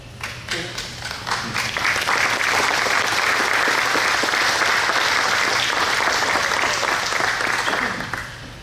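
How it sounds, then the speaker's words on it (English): An audience applauds at a patriotic speech honoring Iwo Jima veterans, a dense, sustained wash of clapping that swells quickly and holds steady before tapering off at the end, with no talk over it. "Thank you for the applause"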